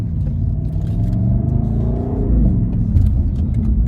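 A 2020 BMW M850i xDrive driving in Sport Plus mode with paddle shifting, a loud, deep engine rumble heard from the cabin that rises and falls steadily with rising revs, no talk.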